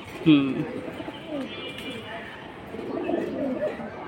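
Pigeons cooing at a pigeon sale, soft repeated coos and murmurs close by, with someone talking over them.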